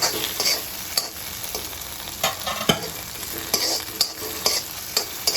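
Lamb brain frying in oil with sautéed onions, a constant close sizzle punctuated by repeated sharp spoon knocks and scraping as the mixture is stirred, lively and unaccompanied by speech.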